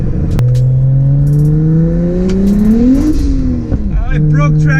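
A single-turbo N54 BMW 335i accelerates hard at half throttle, its loud close engine note climbing steadily in pitch, dipping at a gear change, then pulling again, with an excited voice briefly over it.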